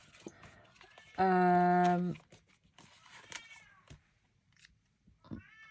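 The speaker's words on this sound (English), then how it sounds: "That's my cat saying hello." A pet cat gives one long, loud, close meow, with faint tapping and small rustles indoors before and after.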